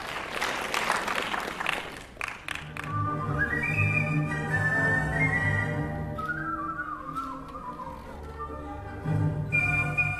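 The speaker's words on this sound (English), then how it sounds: "Now, Ian Chi is here from Atlanta, and he is going to do Brahms' Hungarian Dance number 5." Whistled melody of Brahms' Hungarian Dance No. 5 performed solo on stage at a whistling competition, sustained, gliding tones carried steadily over about ten seconds, with applause and crowd noise at the start and end.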